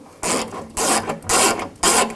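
Four quick bursts of ratchet clicking as an 8mm socket loosens window regulator bolts inside the door of a 2000-2006 BMW X5, close and crisp with short pauses between strokes.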